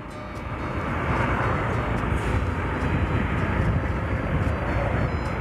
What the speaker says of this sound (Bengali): ফুয়েল তো আর থাকার কথা না বাইকে, তাও তো চলছে